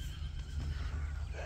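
A horse brought from Poland neighs in one sustained whinny, loud and close, over a steady low background rumble.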